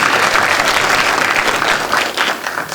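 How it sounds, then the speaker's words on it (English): Loud, close applause from a banquet audience at a youth awards dinner, dense continuous clapping that thins slightly toward the end. "Let's have a nice round of applause."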